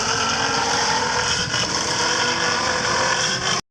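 Royal Enfield motorcycle engine in an Indian bike simulator video game, a loud steady drone with rough low rumble and constant tone, running without break before cutting off abruptly at the end.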